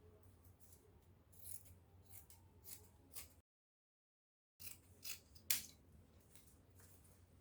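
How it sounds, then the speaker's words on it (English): Scissors cutting fabric for the back of a crop top: a few faint, soft snips and rubbing sounds over a low hum, with a brief dropout midway. "I'll be using this to cut out my back"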